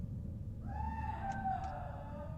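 A drawn-out, wavering scream-like cry from a video game creature rises and bends over a steady low rumble, with two brief higher blips near the end, loud and alone.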